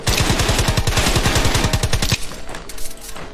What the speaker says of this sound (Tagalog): Barilin na lang natin.